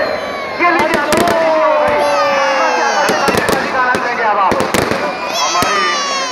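Fireworks go off during a Dussehra celebration at Bhopal's Bittan Market as the Ravana effigy burns: rapid loud cracks and bangs, whistling rockets, and a crowd murmuring with a voice talking over it.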